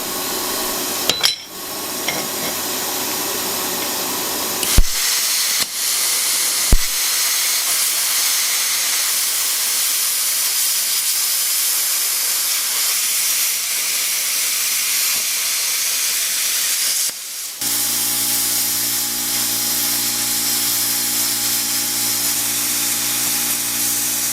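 ArcCaptain Cut50 plasma cutter slicing through green-tarnished copper about 3/16 to 1/4 inch thick, a loud continuous hissing roar with a few sharp pops and clicks, changing character as the arc cuts out near the end.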